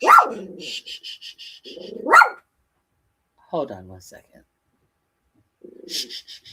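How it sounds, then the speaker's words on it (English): A pet dog barks sharply a few times close by indoors, with loud, distinct barks separated by pauses, and someone briefly speaks between them. "Excuse my dog."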